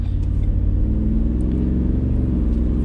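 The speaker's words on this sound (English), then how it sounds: "We're taking off in the regular cab F-150." A Ford F-150 regular cab pickup, a Shelby Sport, pulls away with a steady, loud, low engine rumble that rises slightly as it accelerates, heard from inside the cab.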